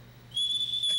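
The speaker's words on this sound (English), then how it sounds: "they bought me this whistle and it still works" A small handheld whistle gives one short, shrill tone, starting abruptly and holding steady for under a second, close and fairly quiet, with no talking.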